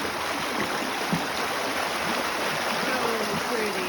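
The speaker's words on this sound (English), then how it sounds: "we're back at the first brook that we were crossing" Steady rushing water of a small brook on a drizzly March hike, continuous and fairly loud, with no talking over it.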